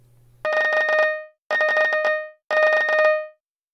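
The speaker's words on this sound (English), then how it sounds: "we heard a lot of complaints about how annoying the old ringtone was." Old Abiphone ringtone from the game Hypixel Skyblock: three loud, shrill bursts of rapid electronic trilling, each about a second long with short gaps between, sounding close and harsh.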